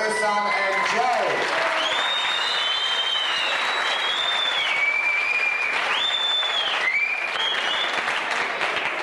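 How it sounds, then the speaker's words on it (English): Loud, continuous applause from an audience for a match between Ersan Tekin and Joe Spiteri, with whistles rising and sliding over the clapping throughout. "once again, a big round of applause for Ersan and Joe."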